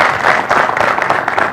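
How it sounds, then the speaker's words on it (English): A studio audience at a presidential nomination media chat breaks into applause, dense steady clapping throughout, loud and close. "Round of applause."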